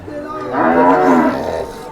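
A young Khillar calf at a cattle market gives one loud, close moo that swells in the middle and tapers off, standing out over faint background murmur.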